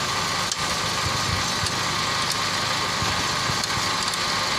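A Toyota Vios engine idles steadily and close up, a continuous mechanical hum with faint ticking and no speech, recorded during an alternator charging check.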